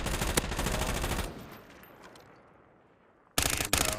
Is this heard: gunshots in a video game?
yes